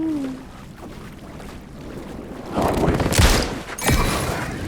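Gunfire in Alan Wake 2, a few loud bursts of shots ringing out over a dark ambient game soundscape, with mid-clip blasts standing out near and sharp.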